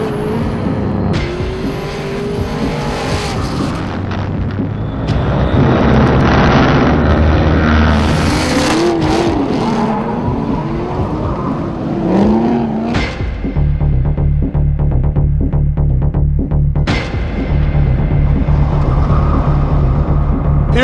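Drift cars at a Formula Drift event, loud engines revving and bouncing off the limiter with tire squeal and passing roars, then a steadier throbbing idle rumble later on, no talking.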